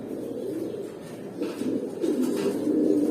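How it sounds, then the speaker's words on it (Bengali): A male silver pigeon coos nearby in soft, rolling, low bursts that repeat and grow slightly louder toward the end. "সিলভার কবুতর, এটা হলো নর কবুতরটা"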